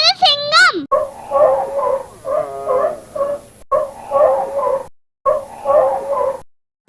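A sea lion barks in a series of loud, hoarse, yelping calls, several barks separated by short gaps, heard close up and alone after a brief squealing sound at the start.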